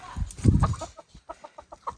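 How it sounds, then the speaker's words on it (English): Chickens settling to roost cluck softly in a series of short, evenly spaced calls, fairly close, after a brief louder flurry of bird noise. "Here are some of the chickens starting to roost."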